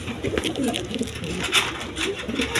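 A pair of Black Beauty pigeons, kept for sale by a pigeon breeder, coo softly and repeatedly among other birds, with steady background ambience throughout.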